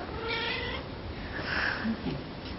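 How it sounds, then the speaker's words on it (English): A cat meows a few times nearby in Kenya in the evening, short plaintive calls against quiet background noise. "They've even got an African meow."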